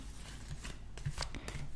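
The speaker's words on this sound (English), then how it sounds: "Let me shuffle the cards," Tarot cards are shuffled by hand in a short burst of soft riffling and papery flicks, close and fairly quiet.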